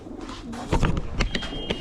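Racing pigeons cooing up close in a loft, a few soft throaty coos and short calls over a couple of seconds, with some light background noise and no talk.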